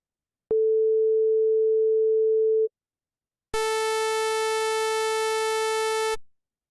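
A pure, steady sine-wave tone representing a star's light curve holds for about two seconds. After a short silence, a brighter, buzzier harmonic tone follows for nearly three seconds, loud and clean with no background.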